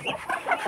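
Hungry backyard chickens cluck noisily in a short, busy burst, near and fairly loud, with no voices over them.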